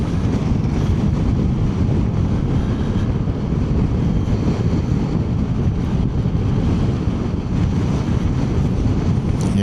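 Heavy wind buffeting a microphone on a motorbike ridden along the Orkney coast, a constant loud low roar and rumble that fills the whole stretch without easing.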